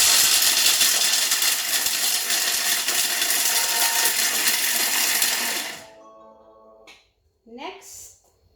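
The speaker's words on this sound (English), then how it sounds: "So as you see, in just a few seconds, our pistachios are nicely chopped." A Thermomix blade chops 30 grams of pistachios at speed, a loud steady whirring roar for several seconds that cuts off abruptly, followed by a few faint clicks and brief voices.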